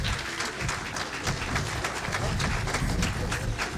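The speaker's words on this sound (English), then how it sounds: "Clap your hands." An outdoor crowd claps at a groundbreaking ceremony for the Grand Bahama Aquatic Center, a fairly distant, soft spread of many hands with individual claps audible as a loose rhythm, steady for several seconds and without speech.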